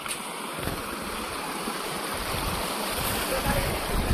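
A waterfall roars continuously, a dense, steady rush of falling water at moderate loudness that fills the whole clip.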